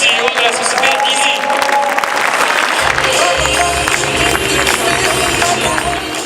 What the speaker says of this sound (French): je vous invite à réserver un tonnerre d'applaudissements à monsieur Salvatore Curaba